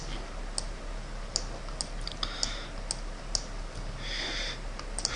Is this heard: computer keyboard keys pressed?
yes